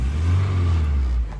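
A Volvo 240 engine bought at auction for $600 revving briefly, a loud close low-pitched roar that holds steady before dropping off at the end.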